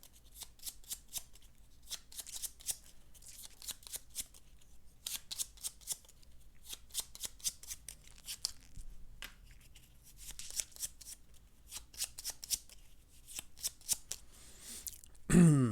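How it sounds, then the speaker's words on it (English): Bloodborne board game Phase 2 cards being shuffled by hand, close and quiet, in repeated riffling bursts with short pauses between them, ending in a brief louder rustle. "So we're going to shuffle up the Phase 2 cards."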